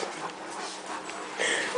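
Leonberger dogs at a breeding kennel pant in quick, airy breaths close to the microphone, with a thin whimpering whine rising near the end.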